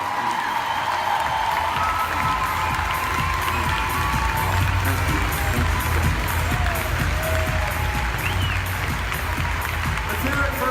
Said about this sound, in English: It's going to be a huge round of applause.